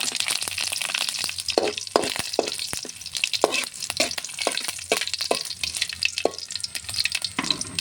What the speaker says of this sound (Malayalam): കടുക് പൊട്ടി അടുത്ത് പച്ചൻ മുളക് ഇട്ടു